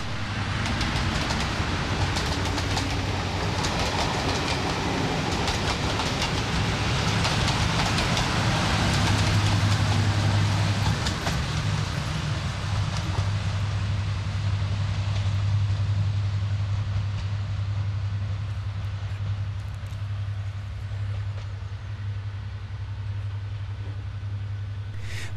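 Two diesel locomotives, 55002 coupled ahead of 55019, haul a northbound train from Olive Sidings toward Ramsbottom, a steady loud engine drone with a deep low hum holding throughout and no voices.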